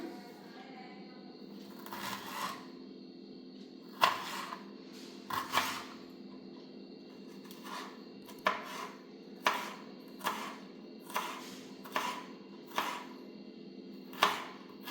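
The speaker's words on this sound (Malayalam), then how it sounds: "ഒരു മൂന്ന് പച്ചമുളക് രണ്ട് ഇഞ്ചി കഷ്ണം എടുത്തിട്ടുണ്ട് ഇത് ചെറുതായി കട്ട് ചെയ്തെടുക്കണം" A knife chopping green chillies and ginger into small pieces on a board, with a dozen or so sharp, evenly spaced taps, close and fairly quiet over a faint background hum.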